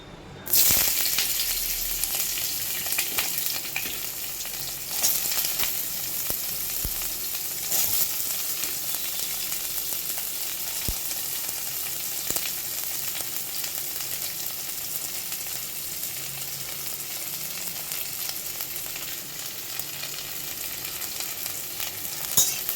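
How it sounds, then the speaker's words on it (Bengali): Bitter gourd pieces sizzle steadily in hot oil in a kadai, a dense continuous frying crackle with occasional stirring scrapes, close and even throughout with no talking. "তেলটা একটু গরম হোক, এবার আমি উচ্ছেগুলো দিয়ে দেবো।"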